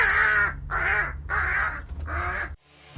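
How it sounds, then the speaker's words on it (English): Australian crows give four loud, harsh caws in a steady rhythm, close and clear, before the calls stop and leave brief quiet. "these are Australian crows"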